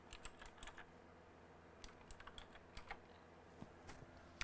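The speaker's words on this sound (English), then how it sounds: "I'm using the wrong keyboard. That's for the bench." Someone types on a computer keyboard during an overclocking livestream, making soft, irregular key clicks in quick clusters. The clicks sit over a low background hum, and no one speaks.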